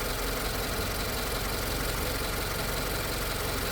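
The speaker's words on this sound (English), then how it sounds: "This is my very first Subaru, very first experience with a boxer engine." A 2025 Subaru Forester boxer engine idles with a steady, even hum and faint mechanical texture, heard alone at a moderate, constant level.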